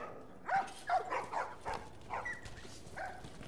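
Several dogs bark in a rapid, fairly close series of woofs and yips in the video game The Last of Us, fading to a few softer barks.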